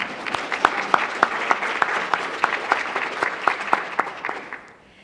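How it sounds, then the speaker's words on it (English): A conference audience at a summit gives a short burst of applause, sparse individual claps clearly audible in a fairly small crowd, steady for about four seconds before tapering off. "let's give ourselves a quick round of applause for that"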